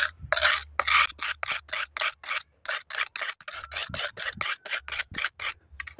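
Steady back-and-forth scraping rasp of a sickle blade rubbed on a sharpening stone in one direction, like sanding, repeated strokes in an even rhythm, close and fairly loud with brief pauses.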